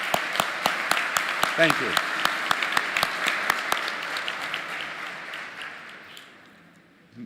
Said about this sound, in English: Por favor, join me with a big applause for that.